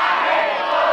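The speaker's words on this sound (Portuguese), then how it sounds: "Aí o pessoal gritou Barreto" A rap battle audience at a Batalha da Aldeia semifinal yells and cheers together in one loud, sustained roar of many voices, with no gaps for about a second.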